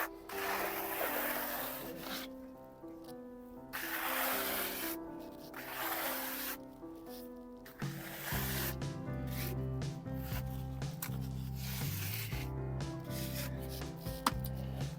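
A trowel beds thick, rigid reinforcing mesh flat into a silicone base coat on a wall, producing close, uneven scraping and smearing strokes with a faint background hum.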